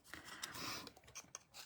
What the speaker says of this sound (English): So I just need to cut my butterfly.